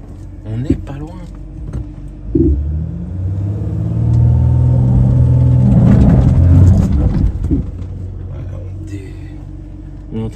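A 4x4 with its differential locked churns and revs through soft desert sand in Tunisia. The engine rumbles low and builds to a loud, sustained strain mid-clip, then eases off, with people talking over it.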